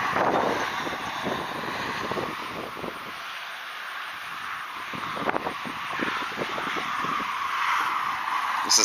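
Steady whirring drone hovering over a lake, a continuous high-pitched motor whine with wind buffeting the microphone, fairly loud and close throughout.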